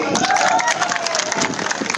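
A large crowd at an outdoor political rally in Ambala claps and cheers continuously, dense and loud throughout, with shouting voices mixed in.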